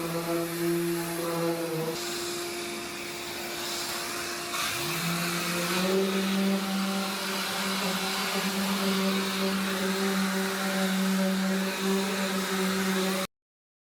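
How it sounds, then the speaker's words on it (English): A 400-grit orbital sander works a car bonnet with a continuous motor whine that shifts pitch a couple of times, loud and steady, with no talk. "I start the process with the 400 grit with the orbital sander to make a smooth base for the paint and clear coat."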